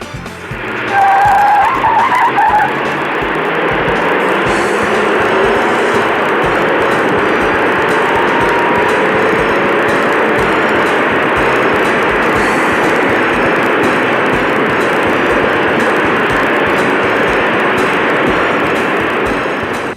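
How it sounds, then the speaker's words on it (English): A 1962 Chevy Impala with a 283 V8 races a Ford Galaxie 352 on a track, loud engines roaring steadily for the whole stretch, with a squeal of tires near the start. "let's take a smaller Impala, the 283 V8, and see what it can do against the Galaxy 352."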